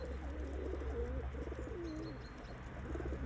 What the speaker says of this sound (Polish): Z kamienicy gołąb.